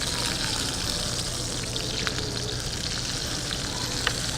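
Salmon fillet sizzling skin-side down in a hot pan as it crisps, a steady dense crackle with small pops, close and fairly loud, no talking.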